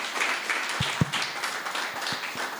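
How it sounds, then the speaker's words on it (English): Applause at a ministry ceremony as a minister walks to the podium, a modest crowd clapping in an uneven patter with a few sharper claps, moderately close and steady. "Round of applause, ladies and gentlemen"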